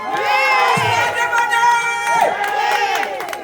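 A crowd of voices shouts and cheers together, loud and close, with a brief lower voice breaking through partway.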